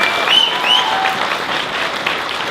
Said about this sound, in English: How about a big round of applause for our staff?